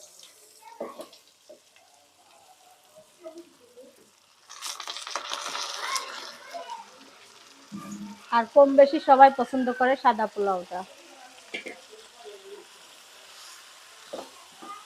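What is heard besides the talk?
frying rice with fried onions in a wok for pulao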